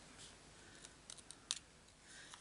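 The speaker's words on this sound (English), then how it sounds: "Remember when you're cutting out by fussy cutting, something like this, just turn the card and not the scissors." Scissors snip through a card during fussy cutting for a Stampin' Up papercraft project, giving a few faint, quick, close snips in a quiet room.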